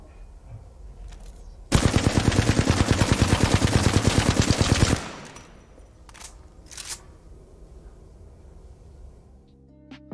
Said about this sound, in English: If you fire the assault rifle at the wall, the recoil pattern is this.